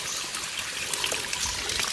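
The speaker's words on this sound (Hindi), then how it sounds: "ये पानी का आवाज़, छोटा सा ये आबशार वाला शक्ल बनाया गया है" Water trickling and splashing steadily down a small artificial waterfall in a calm outdoor spot, a continuous close bright patter with no voices.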